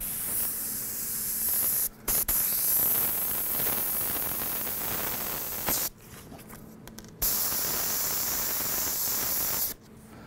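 An airbrush sprays tequila yellow paint over a stencil, a close, steady airy hiss in long bursts broken by brief pauses as the trigger is released.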